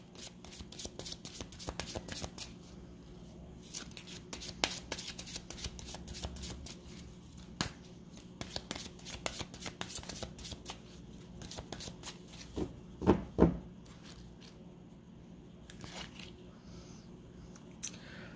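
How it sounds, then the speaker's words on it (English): A Hidden Truth Oracle deck of cards is shuffled by hand in a long series of quick papery riffles and flutters, close and fairly soft, with brief pauses between bursts. "let me take a couple of cards from the Hidden Oracle deck"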